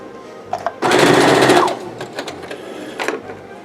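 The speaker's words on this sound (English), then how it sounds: "I am going to actually stitch this closed." A sewing machine stitches a fabric scrunchie closed in one loud, close, rapid burst of about a second, with a few lighter handling clicks and taps before and after.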